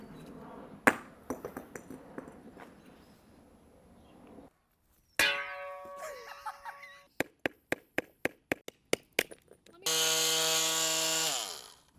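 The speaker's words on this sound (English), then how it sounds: "these rocks have super sharp edges on them because obviously we just chiseled them off the bigger piece" Pieces of lava rock are chiseled apart, first as scattered knocks, then as a quick, evenly spaced run of sharp metallic taps up close, followed by a ringing tone.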